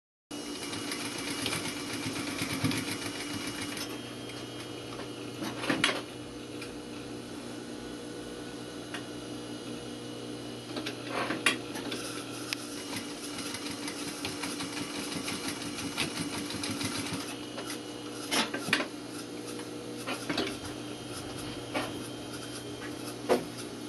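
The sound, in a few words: sewing machine back stitching a blazer pocket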